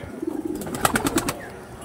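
Madras flying-line pigeons give a few soft throaty coos in close succession, near and clear, with a faint flutter at the end and no one talking.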